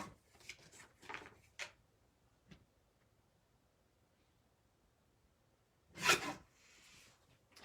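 A paper trimmer slices a thin sliver off cardstock. Brief scraping bursts come early, then a sharper, louder cutting swipe near the end, close and alone with quiet gaps between.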